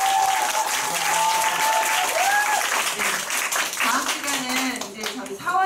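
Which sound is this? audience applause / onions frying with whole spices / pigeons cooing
audience applause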